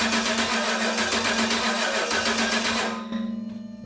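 A Gen III Hemi engine cranks on its starter without firing, because the coil is not getting a signal. A close, rhythmic whirring hum holds steady, then slows into distinct pulses over the last second.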